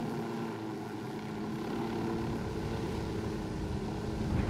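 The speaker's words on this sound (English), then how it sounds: "I'm gonna park the chopper" A helicopter in the Ghost Recon Wildlands video game sets down for a landing, its rotor and engine making a steady, dense drone that swells slightly toward the end, with no voices.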